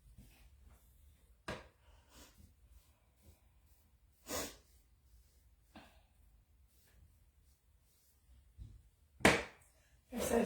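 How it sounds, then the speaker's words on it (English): Faint sniffles from a person with a slight cold, several short sharp nasal snorts scattered across a quiet stretch during a shamrock painting session. "So sorry for all the sniffling"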